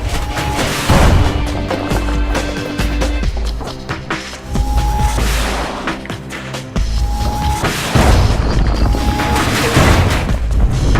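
Big guns firing in a game battle: heavy repeated booms and crashing blasts, loud and close, layered over dense droning music and rumble, with no talking.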